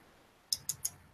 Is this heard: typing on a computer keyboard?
yes